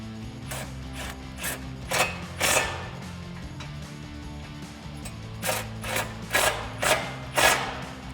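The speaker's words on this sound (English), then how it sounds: "Now grab your 17mm socket and tighten your bolts down." A hand ratchet with a 17mm socket tightens exhaust bolts on a 2005-2010 Mustang GT during a cat-back install, giving close, sharp clicking bursts in uneven strokes over a low background hum.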